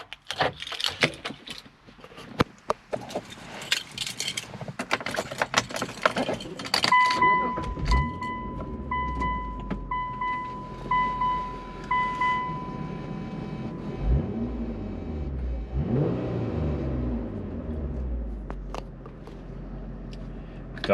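A 2003 Mitsubishi Eclipse GTS Spyder with its six-cylinder engine cranks and fires about midway, settling into a steady low idle after earlier clicks and handling noises, with a soft chime tone running alongside.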